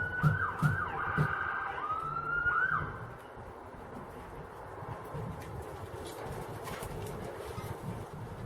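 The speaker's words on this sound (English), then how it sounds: "every time I speak, the siren goes off." A wailing emergency siren sweeps up and down for about three seconds, then cuts off, leaving steady outdoor background noise of an allotment garden with a few faint clicks.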